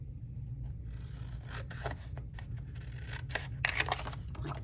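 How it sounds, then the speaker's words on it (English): Scissors snipping through a piece of paper ephemera at a craft desk, a run of short crisp cuts and rasping slides, close and fairly quiet over a steady low hum, no talking. "let's just cut it down"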